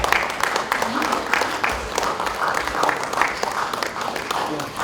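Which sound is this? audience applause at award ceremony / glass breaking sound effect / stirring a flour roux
audience applause at award ceremony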